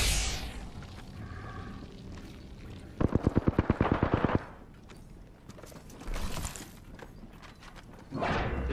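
Rapid burst of automatic gunfire in the battle royale game Apex Legends, a loud run of evenly spaced sharp shots lasting over a second, set among quieter game ambience, footsteps and other effects.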